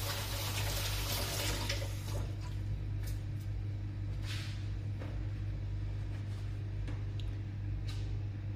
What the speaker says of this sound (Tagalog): Hugas kamay.